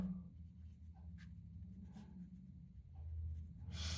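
A pen writes on paper while Hindi study notes on the poet Surdas's life are drafted, giving soft, close scratching strokes that run steadily for a few seconds with brief pauses and no talk.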